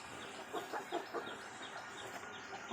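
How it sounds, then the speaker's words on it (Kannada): Chickens cluck softly now and then while pecking at rice put out for them, a faint steady outdoor background beneath the intermittent calls. "ಕೋಳಿಗಳನ್ನು ಬಿಟ್ಟು ಅನ್ನ ಹಾಕಿದ್ದು ತಿಂತಾ ಇದ್ದೇವೆ."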